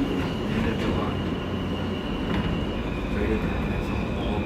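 World Trade Center-bound New York subway R160B car on the E line, ridden toward 50 St, gives a loud steady interior roar of wheels and motors with a high whine and occasional screech.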